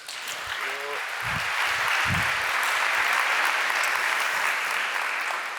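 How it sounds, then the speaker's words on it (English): Sustained applause from the audience at a climate security conference closing in Berlin, a dense even roar of clapping throughout, with a few low thumps and a brief voice near the start. "A big applause, please."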